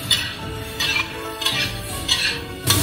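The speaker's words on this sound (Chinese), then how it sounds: "然后把青红椒和蒜片倒进去， 像这样继续的翻炒" Green and red peppers and garlic slices stir-fried in a wok with carrots and cured pork, a spatula scraping and clanking against the metal in uneven bursts over a soft sizzle, close and loud.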